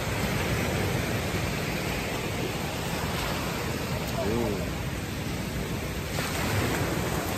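Sea waves at the seaside wash in a steady, full hiss of surf close by during an early morning walk, with a brief voice heard partway through.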